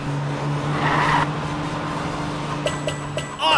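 A cartoon car in the PJ Masks Hero Academy game drives with a steady engine hum and road noise, joined near the end by a few short bright chimes and a swelling burst.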